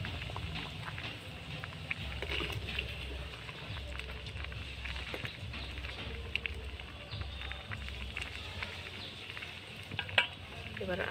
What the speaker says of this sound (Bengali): আরেকবার নেড়ে নেব।